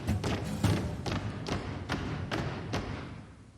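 Stomping on a floor in a TV show episode, a steady series of about nine heavy thuds in even rhythm, fairly loud and close, gradually fading toward the end with no talk over it.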